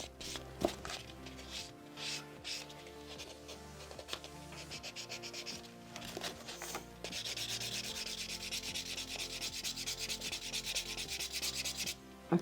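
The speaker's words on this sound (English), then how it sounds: "I'm going to use this buffing block just to take the shine off" A buffing block rubs across painted fingernails to dull the shine of a glossy top coat, giving a steady scratchy rubbing that runs close and continuous throughout, growing slightly louder and denser in the second half.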